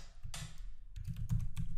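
Keystrokes on a computer keyboard while writing a CSS selector for Selenium, a few quick clustered taps close by with no talking.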